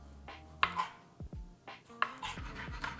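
Knife chopping tomatoes on a board for ceviche, a few sharp close cuts spaced apart with quieter gaps between, no talking.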